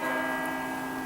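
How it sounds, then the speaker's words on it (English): A church bell rings outside in Europe, a steady sustained metallic tone that stays loud and even for the whole moment, with no talk. "That's the bell ringing for the church outside"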